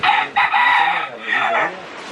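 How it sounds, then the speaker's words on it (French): A rooster crows once, loud and close, in a long wavering call that rises and falls before trailing off. "Il se la donne le coq, il se la donne hein."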